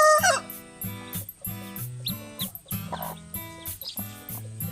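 Newly hatched Rhode Island Red chicks peep close by in quick, high, chirping calls, repeated in short bursts with brief gaps, alone without talk.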